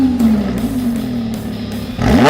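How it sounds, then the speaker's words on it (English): A green Lamborghini Huracan LP 610-4 engine starts and settles into a loud, close idle, with a steady low hum that drifts slightly down before a sharp rev near the end. "so you can hear that engine's pretty awesome sounding."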